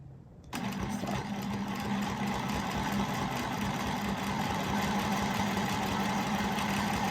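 A sewing machine stitches a scrap quilt. It starts abruptly after a brief quiet moment, then runs in a steady, fast, even mechanical whir close by, with no voices.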